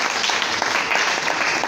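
A church congregation applauds and cheers during a French-language worship service, a dense, steady wash of clapping and crowd noise that fills the short moment with no pauses.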